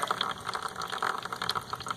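Water mixed with a little oil draining out of the crankcase of a 1986 Suzuki DS 80 dirt bike, a steady close trickling and splashing that runs for the whole two seconds.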